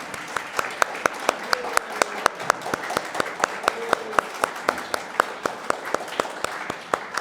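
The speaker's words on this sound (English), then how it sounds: "Let's give a big applause to everyone." A church congregation claps for visiting guests at a Passover-themed service, sparse, fairly even individual claps ringing out steadily throughout at moderate volume.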